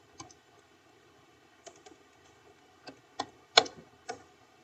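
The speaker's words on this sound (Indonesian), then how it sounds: "Kita coba tulis Dika, enter" A handful of separate keyboard keystrokes on a computer, spaced irregularly with gaps between them and fairly faint, while a name is entered into a coding program.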